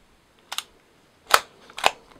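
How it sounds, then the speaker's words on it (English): Kiev Vega subminiature camera being advanced and fired, three sharp mechanical clicks, one early and two closer together later, crisp and near against near silence. "You repeat the process to take more photos."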